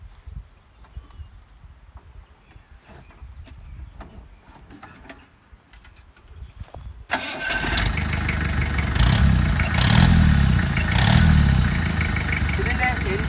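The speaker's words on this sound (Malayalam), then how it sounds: "ഇപ്പം നമുക്ക് എൻജിൻ സൗണ്ട് നോക്കാം." A Mahindra 4x4 jeep engine cranks and catches after a stretch of quiet clicks and handling sounds, then settles into a loud, steady, throbbing idle with slight surges, close by, with some talking early on.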